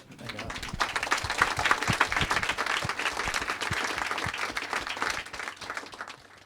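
An audience at a book talk breaks into dense, sustained applause, many hands clapping at once, loud and continuous before tapering off.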